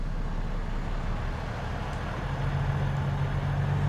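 A 2023 Volvo VNL truck hauling linked trucks in American Truck Simulator, manual gearbox, rumbles with a steady low engine drone and a faint hum that rises slightly, continuous and moderately loud.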